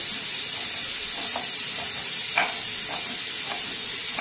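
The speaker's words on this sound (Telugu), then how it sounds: "ఇది వచ్చి ఫ్రైలోకి ఆకుకూర ఫ్రై" Leafy greens fry in a pan with a steady broadband sizzle and hiss, while a few soft stirring scrapes rise above it and no one speaks.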